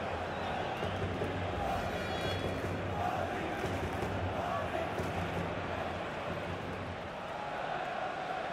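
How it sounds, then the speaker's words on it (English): A large crowd of away supporters in a FIFA 17 video game stadium roars and chants steadily in the distance, a continuous dense wash of voices without a break. "the noise you're hearing is from the away supporters"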